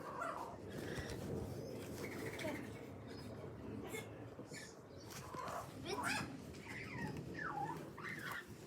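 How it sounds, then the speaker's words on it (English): A magpie calls outside with harsh, chattering bursts that grow clearer toward the end, set against steady outdoor background noise, and people talk nearby at times. "I hear a magpie."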